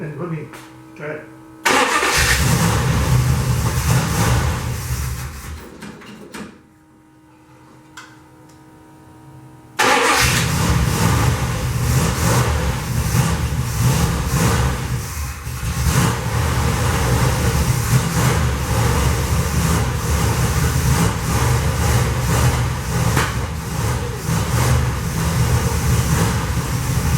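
A Barracuda drag car engine runs loud and close, with a steady rough roar and revving that briefly drops to a low idle before surging back, while people talk beneath the noise.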